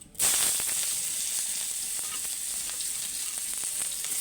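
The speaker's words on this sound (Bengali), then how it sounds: "ওই তেলেতে আমি দিয়ে দেবো দেখো পেঁয়াজ কুচি" Chopped onion hitting hot oil left from frying koi fish, a sudden loud sizzle that starts sharply and holds steady, a dense crackling hiss close up with no talking.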